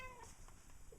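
A cat gives a short, faint meow in a quiet garden setting, with low background rumble around it.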